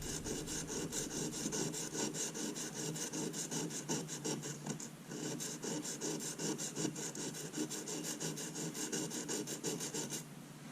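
A serrated bread knife is drawn across a simple bench stone in a fast, even series of gritty rasping strokes. The strokes sound close and fairly quiet, and no one talks.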